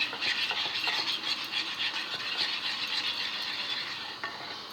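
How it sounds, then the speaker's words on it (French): A spoon gently stirs a small spoonful of crème fraîche into pasta, giving a steady soft scraping and squelching texture, close and continuous for several seconds with no talk. "avec ma cuillère, on va venir ajouter une toute petite cuillère de crème fraîche et on remue délicatement"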